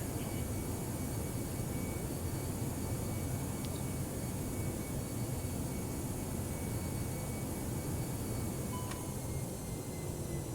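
Steady droning engine noise of an Airbus 319 in the X-Plane flight simulator, a continuous broadband rumble and hiss with a few faint tonal beeps, no talking.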